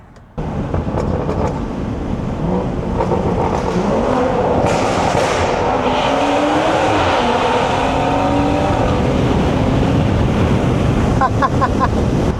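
BMW 340i with the B58 engine under way, its intake and exhaust roaring steadily and loudly throughout, mixed with heavy wind and road rush.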